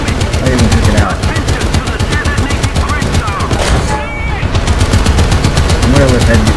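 Rapid bursts of gunfire from a Sherman tank battle on a Japan map in a video game, dense and continuous at high volume, with faint speech mixed underneath.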